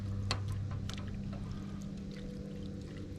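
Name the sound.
stirring beans in a pot while camping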